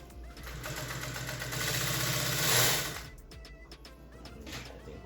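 A Juki LH-series industrial sewing machine runs at speed, giving a steady mechanical whir that builds louder for about two seconds and then stops. Lighter clicks and handling noises follow, with no talk.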